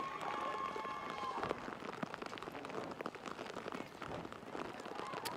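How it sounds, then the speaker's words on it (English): Heavy rain pours over an outdoor women's rugby match, a dense, steady hiss of drops that stays constant and fairly faint throughout, with no clear voices above it. "Rain is absolutely pouring down."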